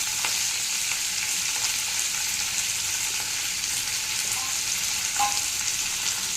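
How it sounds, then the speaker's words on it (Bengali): Onions frying lightly in oil give off a steady, even sizzle that holds through the whole stretch at moderate level, with a few faint clinks near the end and no voices. "আমি পেঁয়াজটা হালকা ভেজে তুলে রেখেছি।"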